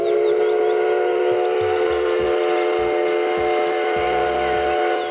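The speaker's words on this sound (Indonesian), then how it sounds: "Wow, kereta api klasik." A classic toy train gives off a steady whistle-like tone with stacked harmonic bands, continuous and fairly loud for about five seconds, with faint clicking underneath.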